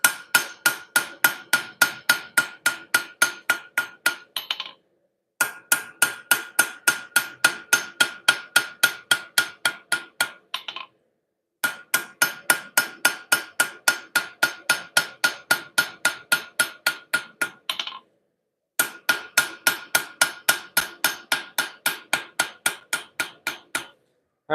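Steel struck on an anvil at a forge, a loud, steady run of ringing hammer blows in four long bursts separated by short pauses, each series sharp and metallic with no talk.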